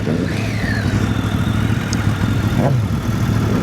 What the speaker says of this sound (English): These are the street bikes getting all fired up for their parade.